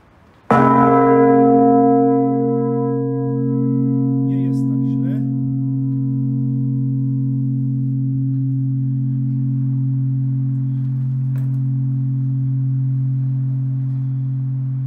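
A large bell in the Gliwice cathedral, rung by hand, gives one loud close strike and then a long, slowly fading ring. A few faint knocks sound in the background.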